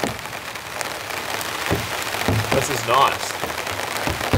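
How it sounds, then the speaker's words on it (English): Steady rain drums on a surface at a campsite, a thick, continuous patter with close wooden ticks, while a person speaks briefly over it. "Pretty good rain now."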